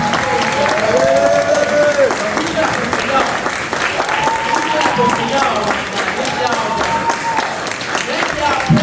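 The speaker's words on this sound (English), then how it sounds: "can we just give a great round of applause for these young people?" Audience at an 8th grade graduation applauds steadily for the graduating students, a dense wash of clapping mixed with cheering and voices for about nine seconds.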